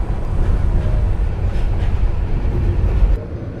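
Inside the moving Burimari Express train, a steady low rumble and rattle of the carriage on the rails continues throughout with no talking.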